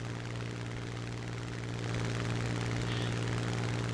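Steady propeller aircraft engine drone in War Thunder, a continuous loud hum with no gaps that grows slightly louder partway through, with no voices.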